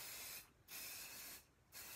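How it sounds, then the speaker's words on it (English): Two short bursts of spray adhesive hiss onto a quilt top, close and crisp, separated by brief pauses. "I try not to spray too much beyond the edge of my quilt top."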